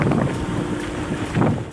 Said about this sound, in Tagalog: Gahagurus nga hangin, kusog nga bundak sa ulan.